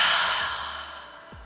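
A single long breath is pushed out through the mouth during a yoga cool-down, a close, steady airy exhale that gradually fades away.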